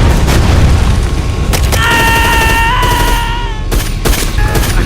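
Gunfire in the 2024 Filipino action film Topakk comes as loud, heavy booming bursts and dense volleys, with a sustained wailing tone rising in the middle of the barrage.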